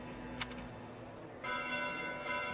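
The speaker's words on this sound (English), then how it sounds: "Bells? This late at night?" Faint church bells ring out in the distance in the video game Fire Emblem: Three Houses (Cindered Shadows), a soft sustained peal that swells slightly midway, with no voices over it.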